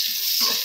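Chopped onion and garlic hit hot oil in a pan, giving a bright, steady hiss of sizzling frying, close and loud with a slight swell near the end, no voices.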